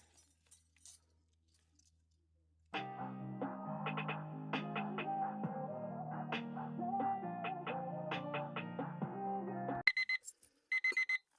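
A kitchen timer rings with a loud, continuous metallic alarm that starts abruptly and goes on for about seven seconds before cutting off, followed by a few short ringing bursts. Faint handling clicks come before it.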